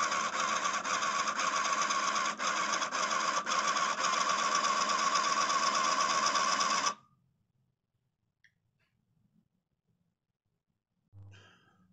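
A ZX Printer attached to a ZX Spectrum Next prints word-processor text: a loud, steady buzzing whine with faint rhythmic ticks runs for about seven seconds, then cuts off abruptly, leaving near silence with a few small clicks.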